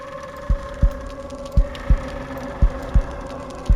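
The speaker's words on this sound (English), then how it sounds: "Whenever you're standing in the salt circles, there's a heartbeat." A low, muffled heartbeat thumps in steady pairs over a faint ambient hum while standing inside the spooky salt circles of a Halloween apartment in Avakin Life.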